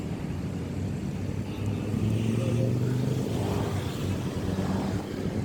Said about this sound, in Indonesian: Cuman suara motor sama suara mobil mengganggu ya